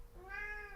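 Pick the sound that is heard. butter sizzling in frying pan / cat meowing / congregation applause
cat meowing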